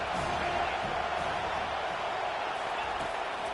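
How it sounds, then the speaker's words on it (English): A stadium crowd at a Penn State versus Florida State football game roars steadily on third down, a dense, even wash of cheering with no breaks. "Decibels rising as the crowd gets behind this defense on third down."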